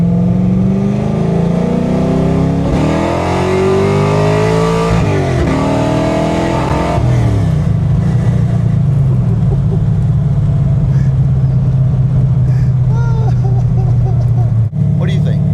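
A car fitted with an ACES Killshot cam accelerates in fourth gear on a back road, its engine note climbing steadily and droning loudly from inside the cabin.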